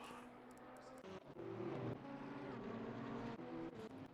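Race car engines in the sim racing game Assetto Corsa Competizione, TCX and GT4 multiclass cars at Snetterton, droning steadily in a continuous mid-distance blend of revving motors with shifting pitch and no talk.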